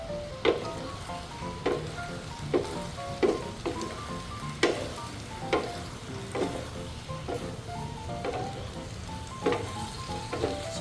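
Chicken in chili bean sauce with mixed mushrooms, just dosed with oyster sauce, fries in a pan with a continuous sizzle broken by regular clacks of a utensil stirring and scraping, close and steady.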